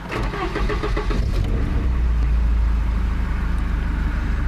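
A Volvo 240 engine cranks and catches, fitted with a new cold air intake and running without its center muffler; after a brief starter whir it settles into a steady, fairly quiet close idle with a deep low rumble.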